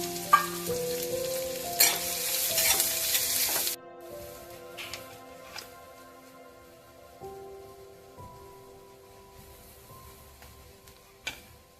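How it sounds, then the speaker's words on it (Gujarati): Sautéed onion stirred with grated coconut, red chilli and salt, a brief bright sizzle with spoon clinks, then a quieter stretch of scattered taps and scrapes, close and without speech. "ડુંગળી સંતળાઈ જાય પછી તેમાં કોપરાનું છીણ, લાલ મરચું, મીઠું નાખીને હલાવો"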